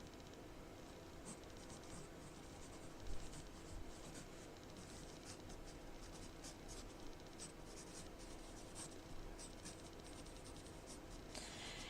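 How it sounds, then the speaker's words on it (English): A pen scratching across paper in quick, continuous strokes, close and quiet, while an insect's name is noted during microscope illustration work. "let me write that down really quick"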